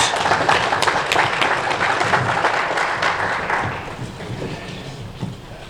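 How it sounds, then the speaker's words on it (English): Dense applause from a large seminar audience, steady and loud for several seconds before thinning out slightly toward the end. "Another round of applause for him as he goes to take his seat."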